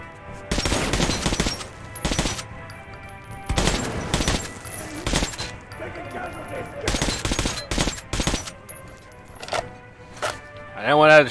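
Rapid bursts of gunfire ring out while shooting through enemies in Metro 2033 Redux, with sharp cracking volleys spread across the stretch, loud and close, and game sounds filling the gaps.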